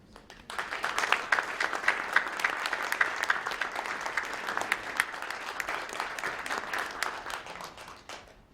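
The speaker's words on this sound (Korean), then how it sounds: "경기도지사님 우리 이재명 지사님 모실 때 큰 박수로 함께 모셔주시면 감사합니다" An audience at a Gyeonggi Christian council New Year prayer breakfast applauds to welcome the provincial governor, a crisp burst of many hands clapping at moderate distance that swells quickly, holds steady and fades at the end.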